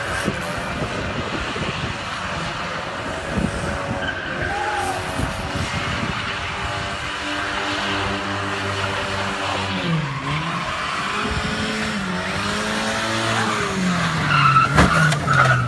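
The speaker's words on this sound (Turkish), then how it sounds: "sokak üzerinde aracın kapısı açık halde drift yapmaya başladı" A car drifting along a residential street with its door open, tires squealing and skidding in long wavering screeches over a steady engine roar, loud and close.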